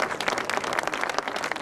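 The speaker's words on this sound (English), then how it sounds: "So have a big applause for Leah." Applause from an audience at a music event, honouring a birthday, dense steady clapping of many hands at moderate level throughout, no speech over it.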